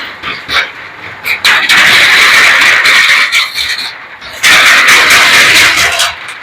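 A vehicle crosses a pontoon bridge in Ballia district, making loud rattling, clattering bursts over a rumbling engine, with irregular rhythm and brief quieter gaps.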